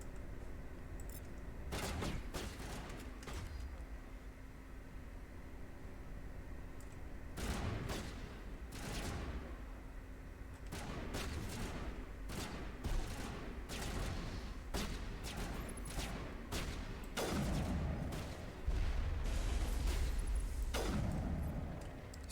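Repeated sharp gunfire cracks from a sniper in a Mass Effect firefight, irregular single shots and short bursts spread over a steady low background of battle ambience, with no talking.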